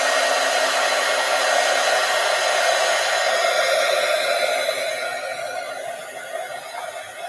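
A hair dryer blows steadily and loudly up close while drying paint on a postcard, a constant whooshing hum that eases slightly toward the end.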